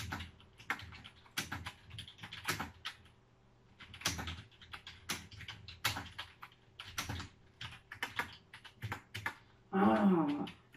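Someone types on a computer keyboard while talking, producing irregular bursts of close, crisp key clicks spread throughout, with a voice heard between and over the tapping.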